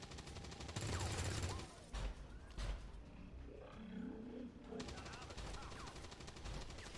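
Gunfire in X-Com 2 comes in rapid automatic bursts, a loud volley at the start and another near the end, with a roaring creature-like growl and sound effects in between.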